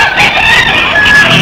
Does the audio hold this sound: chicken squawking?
yes